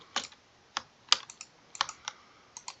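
Keys tapped on a computer keyboard, entering a short word for a sign in a building game; about a dozen close, crisp clicks in small uneven bursts with brief pauses, no talking.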